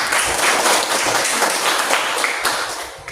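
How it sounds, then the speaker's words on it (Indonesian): A classroom of students claps together in a dense, sustained round of applause, loud and continuous for a few seconds with faint voices underneath. "Tepuk tangan dulu untuk kita semua."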